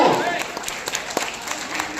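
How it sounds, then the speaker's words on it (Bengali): An audience claps together at a live gathering, a steady broad wash of applause that swells and stays dense, with a voice speaking over it. "খুব জোরে হাততালি, আমি সবার হাত থেকে একবার হাততালি চাইছি।"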